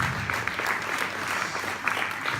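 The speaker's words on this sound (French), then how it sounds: "On applaudit le nouvel écran." An audience at a short-film event applauds a new screen on a stage, steady dense clapping that holds at an even, moderate level throughout with no voices over it.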